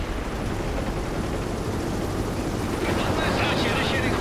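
An Apache helicopter gunship in the video game World in Conflict makes a steady, dense rotor-and-engine roar throughout, loud and unbroken, with a faint brighter hiss rising near the end.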